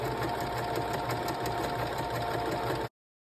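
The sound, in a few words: sewing machine stitching pleated waffle fabric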